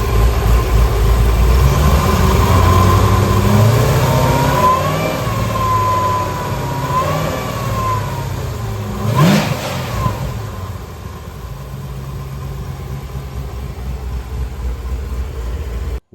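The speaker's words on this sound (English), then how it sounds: "But this thing runs. It's got great oil pressure. It sounds great. It wraps up pretty quick." A C7 Corvette Z06 with an LT4-based 418ci stroker engine revs hard and close, climbing and falling between rises before settling to a lower steady idle.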